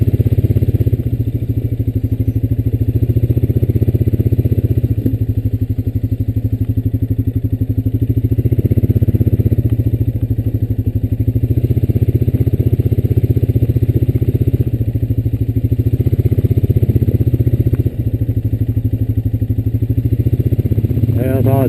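A Honda Rancher 420 ATV engine drones steadily while riding up a wooded path, a loud, close, continuous mid-pitched rumble with slight surges and a brief clunk near the end.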